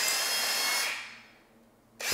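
A power drill drilling a hole in a wooden frame whirs, winds down into a brief lull, then starts up again abruptly, close and loud.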